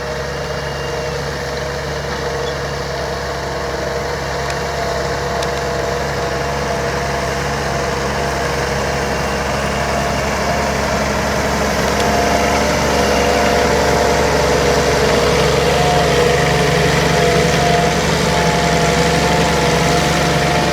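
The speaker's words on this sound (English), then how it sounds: "I'm on top of the tractor now." A tractor engine idles steadily, heard from on top of the tractor in a grass field, with a low, even rumble and a slight vibration that holds constant throughout, with no voices.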